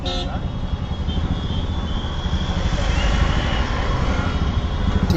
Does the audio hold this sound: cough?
no